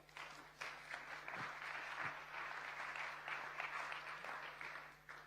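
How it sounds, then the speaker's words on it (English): Applause from a conference audience at an African Bitcoin event, dense and sustained clapping from a sizeable room with a few louder individual claps standing out near the front. "Yeah, I could clap for that too."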